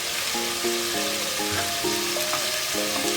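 Cumin, chili and turmeric powders with a little sugar sizzle steadily in hot oil in a Bengali kitchen, the frying loud and continuous, with faint tonal background sounds running over it.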